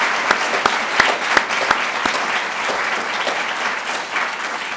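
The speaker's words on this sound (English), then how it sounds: "let's have one more round of applause for all of the graduates" A crowd applauds graduates at a university economics commencement ceremony, a dense, sustained clapping with a few sharp, close individual claps standing out near the start before settling into an even roar.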